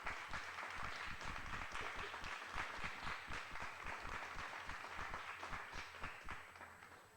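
Audience applause at a book launch on business, society and law, a steady dense patter of many hands clapping that holds for several seconds before tapering slightly, with no voices over it.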